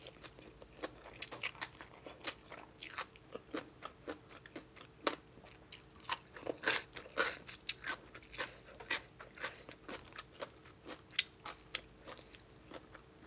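Crispy pork is bitten and chewed close to the mic, producing quiet, irregular crunches that repeat throughout with no talking.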